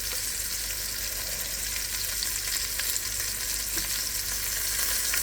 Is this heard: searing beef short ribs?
yes